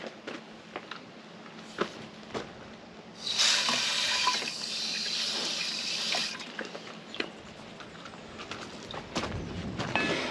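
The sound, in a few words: rinsing off a container under running water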